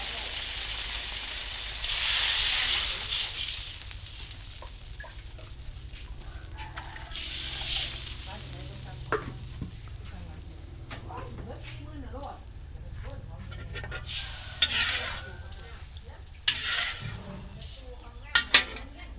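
A hot pan hisses and sizzles as water is poured in, followed by softer frying, with clinks of utensils and a voice talking over it.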